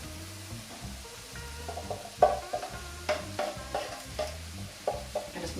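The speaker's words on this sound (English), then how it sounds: "we're now going to add 2 cans of tomatoes" Canned tomatoes tipped into a lamb tagine pot, heard as soft stirring, scraping and dull knocks of tins against metal in a quiet kitchen, close but faint, without talk.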